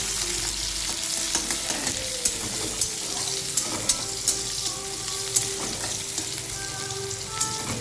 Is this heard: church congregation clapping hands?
no